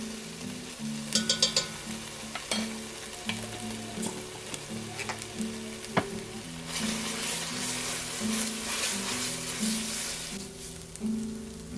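Canned tomato paste and garlic cloves fry in a pot with a continuous close sizzle, stirring scrapes and a few clinks of utensil on metal, the hiss swelling louder midway through.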